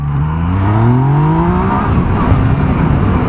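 A Yamaha MT-09 three-cylinder motorcycle engine revs hard up close, its pitch climbing steadily in a loud, continuous roar.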